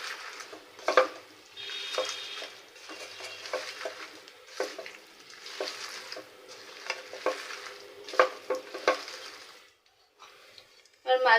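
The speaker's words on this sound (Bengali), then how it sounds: "তেল দিয়ে ভালোভাবে মেখে নেব।" Small fish and Shapla flower stems being stirred and mixed with oil in a pan, a steady scraping, clattering stir with light sizzling, broken by sharp utensil knocks against the pan.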